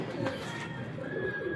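A male pure Sebe pigeon cooing, a few soft low throaty coos close by against quiet background.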